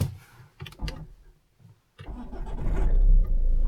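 Volvo V70 engine cranking and catching after a pause, a couple of short bursts followed by a steady loud idle building close by.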